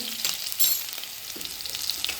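Steady high sizzling of crushed garlic frying in hot oil, continuous and close, with a brief clatter of stirring partway through.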